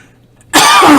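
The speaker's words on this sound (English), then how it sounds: "It's a smoker's cough." A single loud, harsh smoker's cough bursts out suddenly after a moment of near silence, rough and throaty like clearing the throat, and is very close to the microphone.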